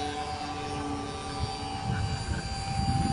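A nano electric ducted fan F-15 model jet on a 610 3S battery flies flat out, giving a steady high-pitched whine over a rumbling roar that swells slightly toward the end.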